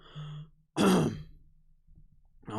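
A person hacks and clears their throat in one sharp, harsh burst, close and fairly loud, with a brief voiced grunt before it and another throaty sound trailing at the end.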